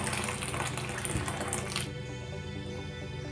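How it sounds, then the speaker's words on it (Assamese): Water pours into a cooking pot of taro leaves simmering with fish heads, a steady close splashing stream that runs for about two seconds and then stops, leaving a faint hum. "মই আৰু অকণমান পানী দি দিম।"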